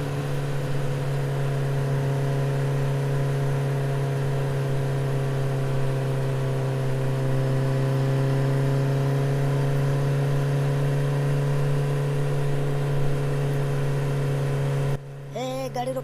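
Cartoon vehicle engine holding a loud, steady droning hum with a slight rise in pitch midway, running continuously for about fifteen seconds before cutting off abruptly near the end.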